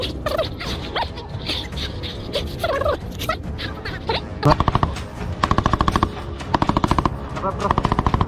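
Gunfire is aimed at Russian soldiers in the war in Ukraine, with shouting voices first, then loud rapid bursts of automatic fire cracking in quick repeated volleys close by.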